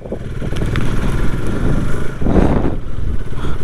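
A 2025 KTM 250 Adventure 250cc motorcycle being ridden, its engine loud and close with a rough, pulsing drone that swells into a brief burst of revving near the end, no voices.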